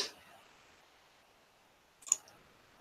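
A computer mouse clicks once, sharp and close, in a quiet room after a faint earlier tap.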